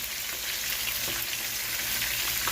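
Seasoned chicken tacos fry in a pan with a loud, continuous, crisp sizzle close up, with a light knock or two and no talking.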